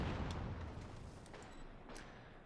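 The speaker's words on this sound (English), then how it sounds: "Explosions going in every single direction." Explosions and artillery fire in the wartime strategy game Company of Heroes 2, a dense rumbling mass of distant booms and blasts with a couple of sharper bursts, fairly quiet.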